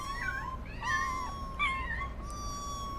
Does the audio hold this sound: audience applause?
no